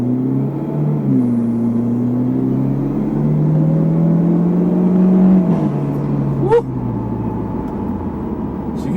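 A 2013 Hyundai Genesis Coupe 2.0T Premium in sport mode accelerates hard, its loud, close engine note climbing steadily through the revs with a gear change partway through before easing off.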